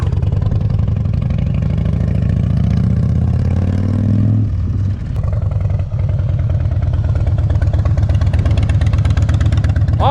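A Harley motorcycle engine runs steadily in first gear, a loud, close, continuous low rumble that dips briefly around the middle as the throttle changes, then carries on evenly.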